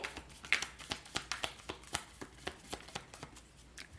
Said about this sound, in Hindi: कार्ड्स के दो बार और शफल शफल करेंगे